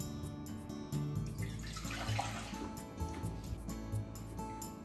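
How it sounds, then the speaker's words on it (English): Water pours from a container into a cooking pot for shiitake and egg drop soup, a splashing, gurgling stream rising in the middle and settling, close by over faint background hum. "Let's put 4 cups of water and everything other than the eggs and green onion into the pot."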